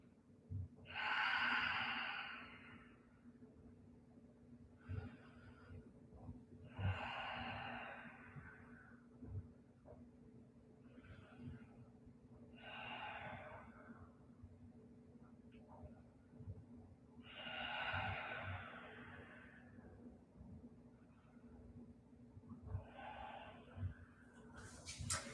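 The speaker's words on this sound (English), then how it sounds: "And breathe through this pose." During a yoga pose, slow deep breaths come as a series of soft, airy inhales and exhales spaced a few seconds apart, fairly close but quiet, over a faint low background hum.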